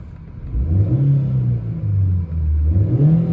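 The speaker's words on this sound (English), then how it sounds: "I'll start the car up quickly to show you." A 1.6-litre engine in a 2008 Suzuki Grand Vitara with 119,000 miles turns over and catches, then revs up and down in uneven surges, close and loud, with no voices.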